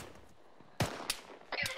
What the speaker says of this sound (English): Bravo, open fire.